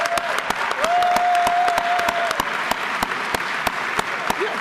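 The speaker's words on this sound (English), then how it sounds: "Let's give a round of applause to Chuck" A room of people gives steady, sustained applause for Chuck, honoured as a hero; the clapping is even and fairly loud, with a brief tonal whine running through part of it.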